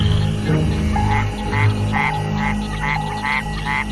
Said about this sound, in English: the Mexican white-lipped frog makes a series of chirping sounds